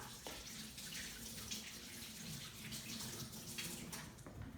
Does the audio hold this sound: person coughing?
no